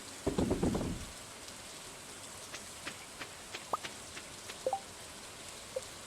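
A short burst of heavy rain in the video game Stardew Valley patters at first, then thins to scattered drips and light taps against a quiet hiss.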